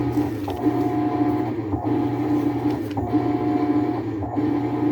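A Roper washing machine in manual test mode hums steadily while its actuator shifts, with a whining motor tone that stops and restarts in short repeated cycles over a constant drone.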